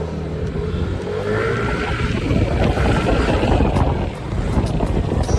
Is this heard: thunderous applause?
no